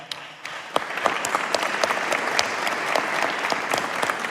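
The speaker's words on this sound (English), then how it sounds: "allow me to ask for a round of applause for our panelists for tonight" A conference audience at an ICAO aviation facilitation summit applauds the evening's panelists, with dense, steady clapping that starts softer and swells, sharp individual claps standing out near the front.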